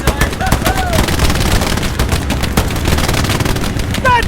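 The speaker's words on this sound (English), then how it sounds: "that MG42 took out like 5 people in front of me" A German MG42 machine gun in the WWII game Hell Let Loose fires amid dense, continuous battlefield noise, loud and close, with brief voice-like calls mixed in.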